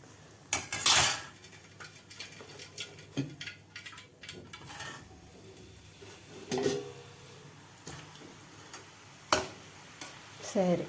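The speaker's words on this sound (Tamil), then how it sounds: "இப்போ எடுத்துடலாம் உருண்டைகளை. எடுத்து அப்படியே சக்கரை பாகில் போட்டுடலாம்." Fried bread gulab jamun balls are scooped out of hot oil and dropped into sugar syrup, giving scattered clinks of a metal spoon against a pan and soft splashes amid a faint sizzle, with no talking.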